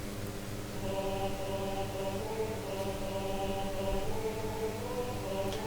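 MIDI choir practice track with all vocal parts sounding together as steady synthesized sustained chords, a continuous moderate-level electronic choral texture with no live voices.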